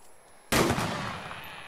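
A single loud gunshot from a zombie video game, hitting abruptly and fading into a long, reverberant tail. No voices are heard.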